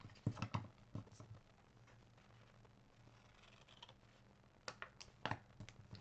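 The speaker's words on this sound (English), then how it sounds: "I'm gonna fussy cut that." Scissors snip around a paper scrap during fussy cutting for a craft card, with soft irregular clicks and snips in quick clusters at the start and end and a quiet stretch between them, heard close and faint.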